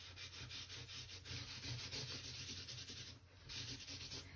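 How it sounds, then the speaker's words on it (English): Paper towel scrubbing soft pastel into paper, faint close rhythmic rubbing strokes repeating steadily with a short pause, heard alone. "we're going to take a paper towel, and I'm going to just kind of scrub that in"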